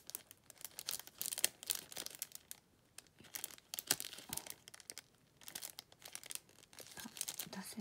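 A paper envelope in dressing-paper material, bought at Seria, is handled with soft, close crinkling and rustling in intermittent bursts with short quiet gaps.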